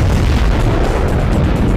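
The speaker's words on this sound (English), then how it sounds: "that was one wicked, sweet explosion" Loud, sustained rumbling blast from a Command & Conquer fan-made explosion, a dense low-heavy roar filling the whole moment with no voices over it.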